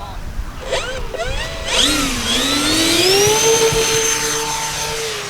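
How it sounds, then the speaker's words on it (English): Electric motor of an E-flite Twin Timber RC plane spinning up, a rising whine that climbs in pitch over several seconds and then holds a steady, loud tonal drone with bright harmonics. "Turn the motor"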